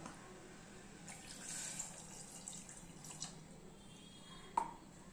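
Water poured from a tumbler onto palm jaggery in a pan for a Tirunelveli-style sweet, a steady close watery wash with a brief splash, and no talk.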